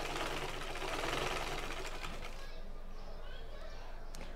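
A sewing machine runs steadily, stitching a kameez sleeve of thin fabric to the body piece with a continuous mechanical whir, and a voice talks faintly along with it.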